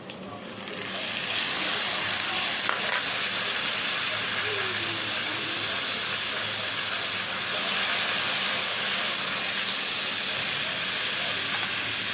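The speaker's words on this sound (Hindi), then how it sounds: "प्याज जो है वो हमारे ब्राउन हो चुके हैं। अब मैं इसमें ऐड करूंगी टमाटर।" Tomatoes tipped into a pan of browned, sizzling onions for a Punjabi tinda (round gourd) curry, giving a steady, fairly loud hiss of frying that rises within the first two seconds and holds evenly throughout with no talk.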